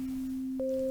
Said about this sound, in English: if I just set it to sine wave and 1 voice and play it, we have our root